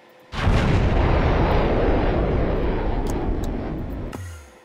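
A hypersonic missile launches in Minecraft's Voltz mod with a sudden loud roaring blast that holds as a thick rumbling rush for about four seconds, slowly fading, then cuts away sharply.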